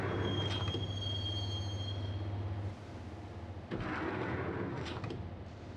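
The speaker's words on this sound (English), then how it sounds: "the train doors had already shut behind me, and I was in for the ride" Train ride in Max Payne: a rumbling carriage with a low steady drone, rattling wheels and a high whine early on, followed by a short dip and then heavier clanking rolls.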